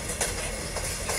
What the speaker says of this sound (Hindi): हम जो ओवरटेक कर रहे हैं, राइट साइड में और एक लोकल जा रही है